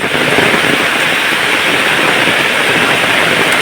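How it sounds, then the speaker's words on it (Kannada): Heavy rain pours steadily and loudly, a dense, unbroken hiss of water falling on surfaces close by, with no voices over it. "ಜೋರು ಮಳೆ ಉಂಟು ನೋಡಿ ಈಗ ಜೋರು ಮಳೆ ಬರಲಿಕ್ಕೆ ಸ್ಟಾರ್ಟ್"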